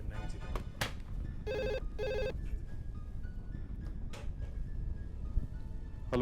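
A telephone rings in two short, bright bursts of trilling bells, clear over a low background hum.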